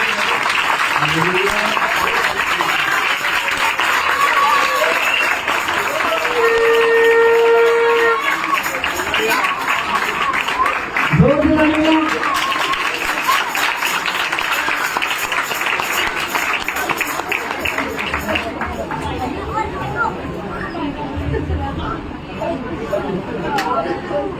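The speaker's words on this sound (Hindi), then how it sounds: "ताली बजाएं जोर से।" An audience claps loudly and steadily at a youth ministry anniversary celebration, a dense continuous wash of applause with crowd murmur and a voice speaking over it.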